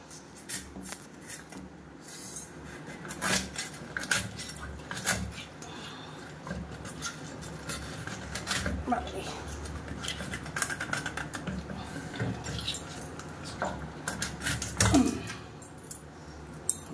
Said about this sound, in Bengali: এবার মাছের মাথাটা আগে আলাদা করি